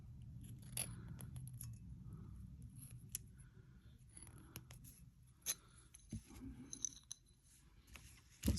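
Thin jewelry wire being wrapped by hand several times around a Valentine jewelry piece, giving faint, close metallic ticks and small clinks over a low rumble, with a few sharper clicks near the end.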